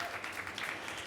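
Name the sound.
applause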